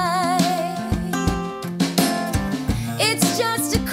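Acoustic guitar picks out a song's bridge, steady strummed chords with ringing melodic notes moving over a repeating bass, played solo and close with no voice.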